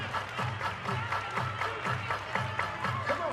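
An arena crowd at a professional women's volleyball match claps in a steady rhythmic pattern, with crowd noise around it and a faint voice over the top.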